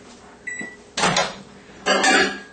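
A white microwave oven melting butter in a cup hums quietly, then beeps, and a door opens and shuts with two sharp clunks and rattles.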